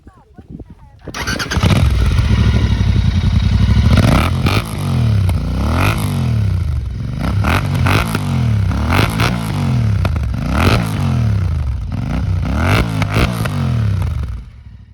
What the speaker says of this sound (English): The exhaust sounds great and is definitely a head turner.